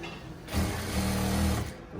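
A sewing machine stitches waistcoat fabric along a marked line in one loud, close burst of about a second, with quieter handling noise before and after.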